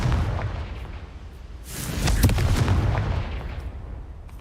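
Confringo, the explosive blast spell in Hogwarts Legacy, goes off as a heavy booming burst that swells and rumbles for a couple of seconds before fading back into the ambient background.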